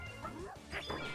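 A puppy's barks and yips sound during a Mario Tennis Fever match, short mid-pitched calls over steady game audio and background noise.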